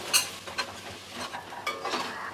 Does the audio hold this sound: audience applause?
no